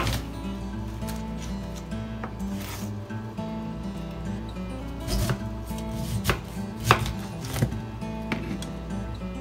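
A knife cuts the outer skin off an upright pineapple on a board, giving a run of crisp, close chopping strokes at an irregular pace over a low, steady background hum.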